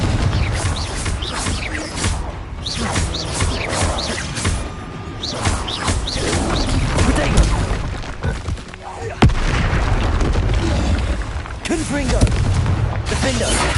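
Spell blasts in the Hogwarts Legacy video game, with repeated loud booming explosions and crashing impacts in a busy combat mix, under a voice calling out spells.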